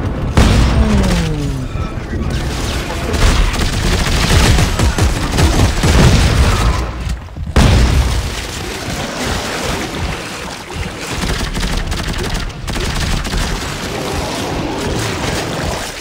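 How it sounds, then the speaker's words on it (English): Rapid automatic pulse rifle fire from Dead Space 3 rattles on dense and loud for most of the stretch, with booming impacts and heavy game noise layered underneath. "Yeah, I got a pulse. How? That gun's automatic now, huh?"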